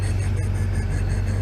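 A 2005-2009 GM truck engine with loose rockers runs at a steady idle, heard close with a continuous low drone and faint regular ticking, no talk over it.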